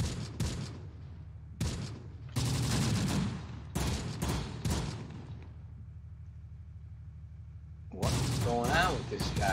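Gunfire in the WWII tactics video game Close Combat: The Bloody First, fighting for Hill 350: loud bursts of shots and distant fusillades come in separate blocks, with quieter gaps between them.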